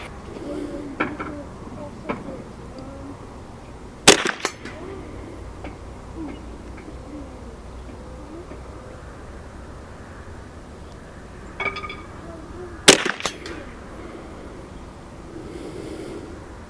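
.22LR rifle shots ring out at steel spinner targets, with rounds clipping the crossmember bar. Two sharp, loud cracks come about nine seconds apart, each followed by a quick rattle of impact. A fainter knock falls between them, over quiet outdoor ambience.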